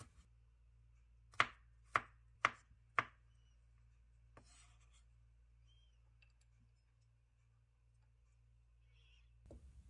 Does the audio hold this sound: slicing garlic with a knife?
yes